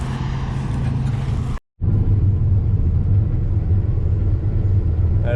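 A Claas or New Holland combine harvester's engine drones in a loud, steady low rumble, cut by a brief dropout before resuming just as strong, with no voices.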